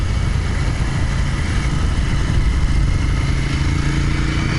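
Motorcycle riding along twisting canyon roads, a loud, continuous engine roar mixed with rushing wind noise that holds steady throughout, with no speech.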